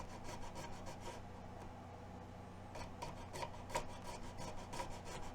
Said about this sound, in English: The edge of this ignition file works real good to clean up this old glue.